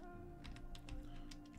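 Quick, close clatter of keys on a computer keyboard as a git clone command is entered in a terminal, a brisk burst of several keystrokes with no talking.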